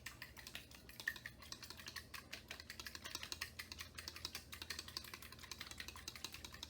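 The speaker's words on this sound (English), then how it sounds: "we're going to take our fork and now we're going to whisk the eggs" A fork whisks eggs in a bowl, making a rapid, steady run of light clicking taps against the sides that continues evenly throughout at a moderate, close level.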